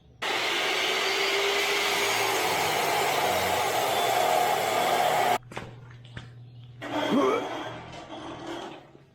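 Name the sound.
power saw blade cutting through gate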